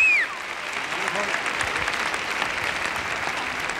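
Loud, dense applause from a pageant audience at a Miss USA crowning fills the whole stretch, steady and continuous after a brief opening tone.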